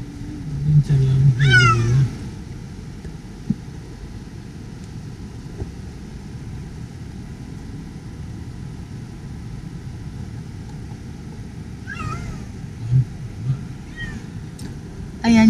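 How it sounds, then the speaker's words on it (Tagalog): Cats meow a couple of times from the back of a car, then again faintly later, over a steady low engine rumble inside the moving vehicle. "Kaya nagpumiyaw."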